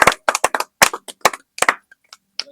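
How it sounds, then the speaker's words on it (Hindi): Wedding guests clap their hands at a Hindu marriage ceremony in a series of sharp, separate bursts of claps with short gaps between them, close and fairly loud, and no one speaks. "ताली बजाएं।"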